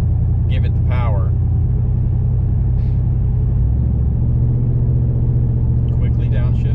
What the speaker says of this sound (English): Like I'm barely into the gas pedal, and it's starting to give it the power.